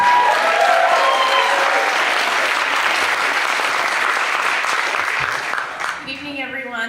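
Warm, sustained audience applause for the host, Kirkland's mayor, at a Hall of Fame induction event in the Kirkland Performance Center; a steady roar of clapping fades as a voice begins speaking at the close.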